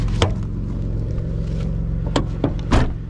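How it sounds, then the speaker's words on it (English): A Chevy Impala 3.5 liter engine idles with an exhaust leak at the intermediate pipe, a steady low rumbling drone up close, broken by a few sharp ticking clicks and puffs. "But I have a little exhaust leak in my intermediate pipe"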